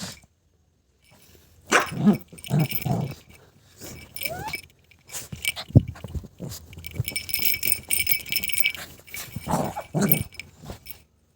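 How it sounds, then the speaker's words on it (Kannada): A small puppy barks and yips in short bursts with pauses between, close by, along with some faint jangling. "ಸಿಕ್ಕಿರೋ ನಾಯಿ ಮರಿ ಇದು"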